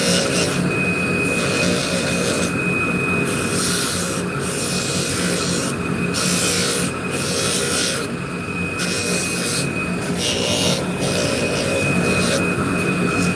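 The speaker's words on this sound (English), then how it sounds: "So the sander that Vicky has is variable speed" An electric sander locked at a fixed speed of about 3,750 RPM works a surface with sanding discs, giving a loud, steady motor whine broken by repeated rasping bursts as it presses and lifts.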